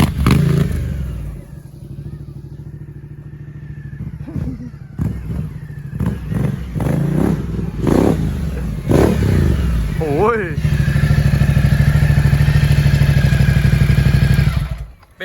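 A Ducati Multistrada 1200 Enduro motorcycle engine runs nearby, idling under some clatter and voices before swelling into a loud, sustained rev toward the end.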